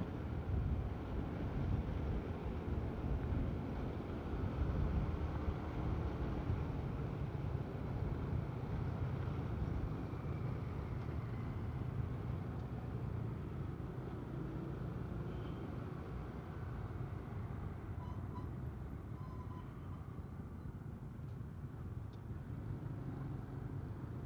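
Road traffic from many passing vehicles, picked up through a headset microphone used for motovlogging, heard as a continuous low rumble with wind buffeting, steady and fairly loud throughout with no talking.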